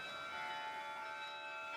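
Carillon bells ring at Grace Cathedral, with sustained overlapping tones humming and shimmering for the whole stretch, steady and resonant with no talking.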